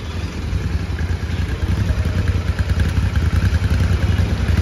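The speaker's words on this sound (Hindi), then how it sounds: "एंड बाइक कैसे झटके से मार रही है" A Royal Enfield motorcycle with a faulty throttle body and damaged wiring idles roughly, a steady close low engine rumble with uneven clattering surges and no talk.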